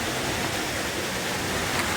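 Water from a well pouring steadily into a storage tank, a dense continuous rushing splash that stays loud and even throughout, close up with no speech over it.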